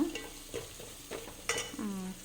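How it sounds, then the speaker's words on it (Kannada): Spices fry in a pan with salt while Hyderabadi dalcha is being cooked. Soft sizzling sits under several short metal scrapes and clinks from a spoon stirring the pan, at close range. "ಇದನ್ನು ಸ್ವಲ್ಪ ಫ್ರೈ ಮಾಡಿಕೊಂಡು"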